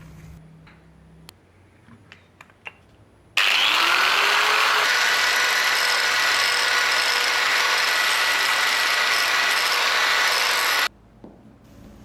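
An angle grinder spins up and cuts into a resin sword blade, a loud, steady high-pitched grinding whine lasting about seven seconds before abruptly stopping, preceded by a few faint handling clicks and taps.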